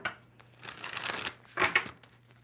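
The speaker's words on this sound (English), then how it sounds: "2 more shuffles? 1, 2. Let's rock this deck" A tarot card deck is shuffled up close: a short papery riffle and flutter of cards, then a second quick burst, with no talking.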